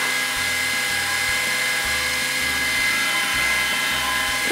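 A Braun Silk-épil 7 epilator running on its second speed setting gives a steady high buzzing whir with a pulsing low rattle underneath, continuous and close.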